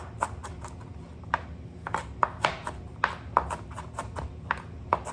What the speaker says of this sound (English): chop it down, and not too thinly